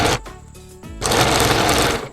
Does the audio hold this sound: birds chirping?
no